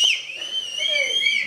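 A shrill whistle rises from the audience at a Tamil film audio launch event, one loud sustained pitched tone that wavers slightly for over a second, close and clear.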